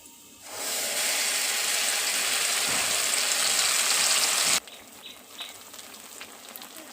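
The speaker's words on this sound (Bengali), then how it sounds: "কড়াইয়ে তেল দিয়ে দিয়েছি, তেলের উপর দিয়ে দিচ্ছি কালো জিরে" Nigella seeds hit hot oil in a wok and burst into a loud, steady sizzling hiss that lasts about four seconds, then drops abruptly to a quieter crackle with light clinks.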